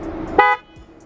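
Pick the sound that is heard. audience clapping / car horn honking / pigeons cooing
car horn honking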